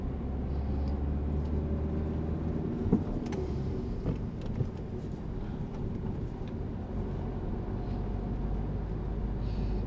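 A car engine drones steadily during a driving lesson, a continuous low rumble with road noise and a faint hum, no distinct gear changes, close and even in level.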